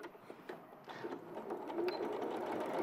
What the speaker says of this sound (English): I like to have the middle face on top each time and to sew from the nose up along this side